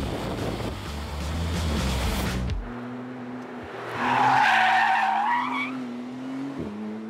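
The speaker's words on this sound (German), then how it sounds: "den McLaren auch mal etwas dynamischer um die Kurven zu bewegen" A McLaren Artura Spider driven hard through curves on a closed country road: loud broadband roar and tire noise for the first few seconds, then a steady engine drone with a rising whine, all close and with no talking.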